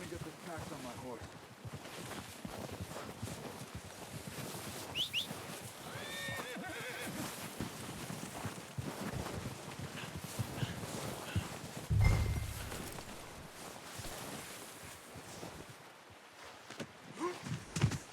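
A horse in Red Dead Redemption 2 neighs and its hooves clip-clop at a walk over an ambient game backdrop, with occasional low thuds and brief sharper accents.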